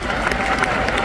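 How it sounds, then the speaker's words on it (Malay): A large crowd at an Amway recognition rally in Kuala Lumpur claps in a loud, continuous burst, a thick, even roar of many hands filling the whole moment. "Tepukan anda dulu untuk Cikgu Faridah"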